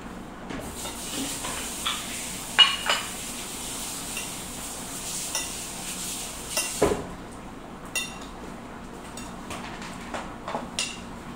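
Salad being tossed with olive oil in a bowl, with soft scraping and clinking of utensils against the bowl in irregular bursts, fairly close and moderately quiet, with no voices.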